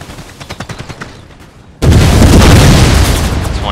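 Grenade explosions in the video game Empire: Total War crash in as a sudden loud burst of booming blasts and crackling gunfire, following a quieter stretch of scattered musket shots.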